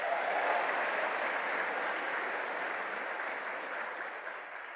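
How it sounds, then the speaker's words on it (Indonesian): Audience applause at a seminar with a guest speaker: a steady, dense burst of clapping from a sizeable crowd that runs for about five seconds and tapers slightly at the end. "Oleh karena itu Anda perlu memberikan satu aplaus pada diri Anda"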